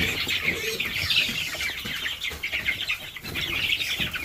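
Chickens on a Vietnamese farm being herded across a pen, a busy overlapping chorus of clucks and squawks close by, continuing without pause and with no talking.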